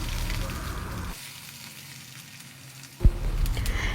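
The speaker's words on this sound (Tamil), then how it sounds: "பொடியை நறுக்குன்னு வெங்காயம் சேர்த்துருக்கேன்." Finely chopped onion sizzling in hot oil with fried peanuts in a pan: a bright crackling fry that drops to a near hush, then bursts back loudly as fresh ingredients hit the oil.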